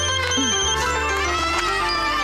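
A telephone ringtone sounds steadily and fairly loudly through the whole short stretch, with a faint background tone underneath and no talking.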